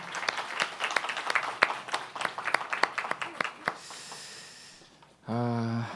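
A church youth congregation claps through a Sunday worship service, a fairly close burst of sharp, uneven claps lasting several seconds that thins and fades, followed by a brief sustained tone.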